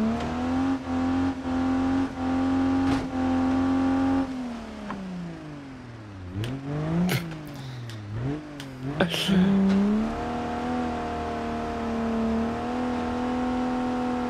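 A cheap offroad truck engine in BeamNG.drive drones steadily, then revs up and down through several sharp gear changes before settling into a higher, steady drone, loud and close.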